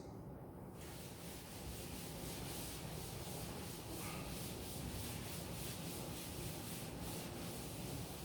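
A board is rubbed to erase writing between math lessons, a steady dry scrubbing that carries on nearly without a break for several seconds, close and fairly loud.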